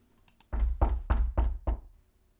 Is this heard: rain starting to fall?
no